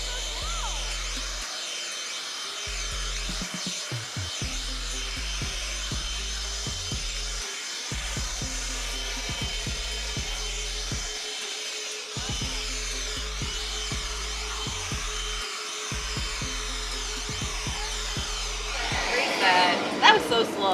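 A Milwaukee M18 cordless blower blowing Spanish moss runs as a steady whooshing whine through the whole stretch, rising louder near the end, while people talk intermittently nearby.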